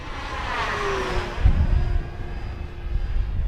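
An FMS T-28 1400mm RC model airplane drones steadily overhead with a buzzing electric whine that rises and falls slightly as it passes through steep turns above a park, with light wind noise.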